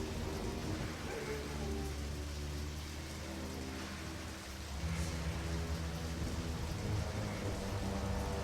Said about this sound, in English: So you notice that it's raining